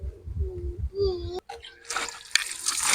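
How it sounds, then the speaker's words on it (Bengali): Koi fish (climbing perch) are rinsed under running water in a home kitchen. Steady splashing comes in about halfway through, after a few tonal sounds. "এখন ধুয়ে নিচ্ছি।"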